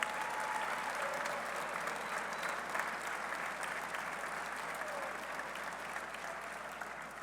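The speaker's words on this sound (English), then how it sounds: "Please stand up and let us give you a round of applause." Sustained, dense audience applause fills the room for West Virginia University's leadership and Board of Governors at a football coach's introductory press conference, steady and even from start to finish with no voices standing out.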